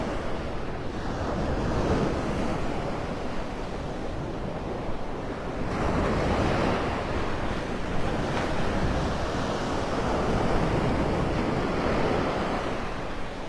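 Ocean surf rolls in continuously at Vanderbilt Beach, Naples, Florida, on an incoming tide, waves breaking and washing up the beach in loud, steady surges, with wind buffeting the microphone.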